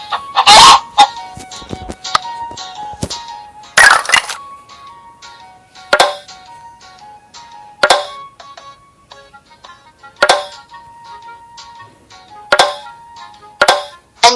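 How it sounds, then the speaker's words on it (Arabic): Farm chickens cluck in repeated short bursts spaced a couple of seconds apart, with a loud opening squawk and quieter pecking clucks between, close and clear with no talk. "دجاج."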